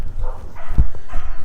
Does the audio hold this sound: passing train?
no